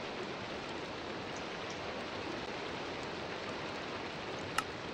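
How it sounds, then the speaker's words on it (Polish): Steady, even hiss of rain falling in Minecraft, moderately quiet and unbroken, with one brief sharp tick near the end. "pada deszcz."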